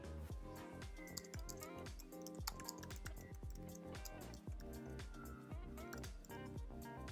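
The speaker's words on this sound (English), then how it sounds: "Let's type in something." Keys tapped on a Mac keyboard in a steady run of soft, close clicks, irregular in rhythm, over a constant background of music-like tones.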